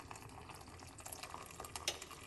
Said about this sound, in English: we're going to put a cup of hot water into the pot.